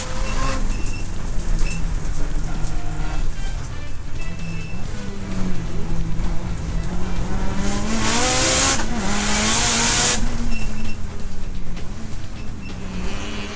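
Onboard a CMRC race car at night at Bushy Park, Barbados, in 2011: loud, continuous engine drone rising and falling through gear changes, with tire squeal through corners.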